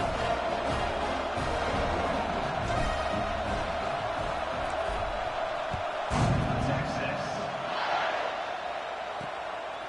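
Stadium crowd in the College Football 26 video game, a dense, continuous roar of cheering fans around a kickoff, steady and loud throughout with no breaks.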